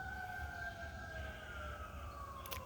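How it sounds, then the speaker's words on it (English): Emergency vehicle sirens wail faintly in the distance over a rural homestead on a hot morning, a steady, slowly falling tone against quiet background noise, with a brief clatter near the end. "It's very rare you hear sirens here."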